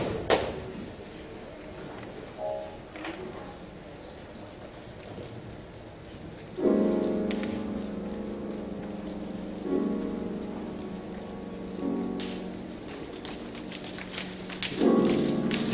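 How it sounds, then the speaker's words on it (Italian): Rain pattering steadily on a surface, fairly soft overall, with heavier bursts of downpour swelling in and fading several times and scattered sharp drips and taps throughout, with no voices. "Giù dal cielo allora prese a cadere pioggia di gran vena"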